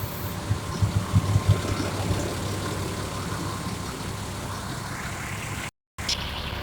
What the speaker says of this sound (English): Let you hear the engine.